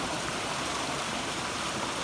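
A flooded creek running high at the top end of a farm property, a dense, steady rushing of water heard close and continuous.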